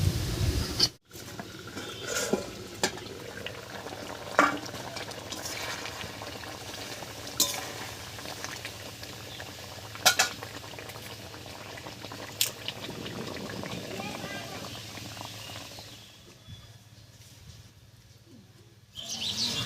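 A dhoka curry of raw papaya and masoor lentils simmering in a pan, with a steady low bubbling and sizzling throughout, occasional clinks of utensils, and faint bird chirps in the background.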